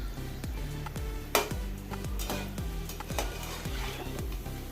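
Vettu cake dough pieces fry in hot oil, a steady close sizzle broken by repeated clinks and scrapes of a metal utensil against the pan, no speech.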